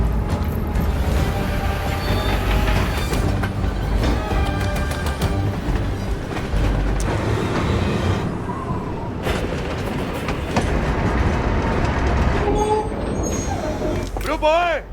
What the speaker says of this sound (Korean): 순조롭게 기차를 작동시킨 사람들 기차에 올라타 도심으로 향합니다.